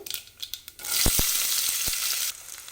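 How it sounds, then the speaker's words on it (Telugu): Green chillies and onions hit hot oil with a burst of bright, loud sizzling that holds steady for over a second before stopping, preceded by a few light taps and stirs. "ఈ పచ్చిమిర్చి ఉల్లిపాయలను ఆయిల్లో కాస్త ఫ్రై అవ్వనివ్వాలి"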